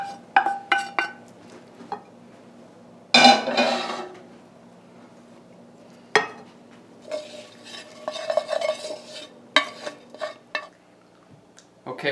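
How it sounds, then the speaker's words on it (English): A spoon stirs and scrapes mushrooms around a hot pan for a vegan lobster roll, producing intermittent clinks and scraping bursts over a faint sizzle. "then I'm gonna just mix in the mushrooms from each pan"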